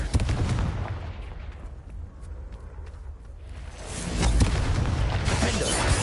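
Confringo fire-curse explosion in Hogwarts Legacy: a rumbling, crackling blast that fades into a quieter noisy stretch, then erupts again with a loud, close burst near the end.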